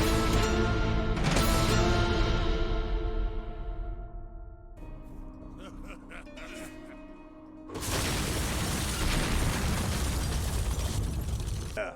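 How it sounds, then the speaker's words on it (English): A booming explosion in a Van Helsing game cinematic erupts into a roaring, crackling blast, then subsides to rumbling debris before a second loud, sustained roar. There is no speech. "It didn't really surprise me when I heard an explosion."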